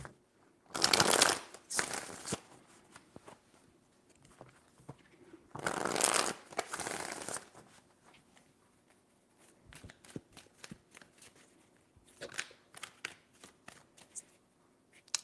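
Cards are shuffled in quick riffling bursts, one after another with pauses between, close and clear in a quiet room.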